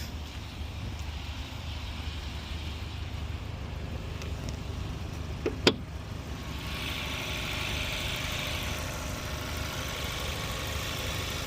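A 2020 Volkswagen Golf R's 2.0 TFSI engine idling with a steady low hum and vibration, joined by a brief clatter midway and a faint higher whine afterward.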